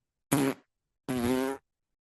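A person imitates a dog's fart with the mouth, producing two short, close, raspy blasts, the second one longer, separated by a brief silence.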